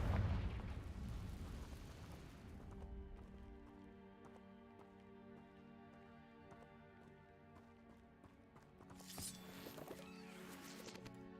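A Confringo fire spell in the video game Hogwarts Legacy, a loud burst that opens the clip and rumbles away, followed by game music and a second swell of noise near the end.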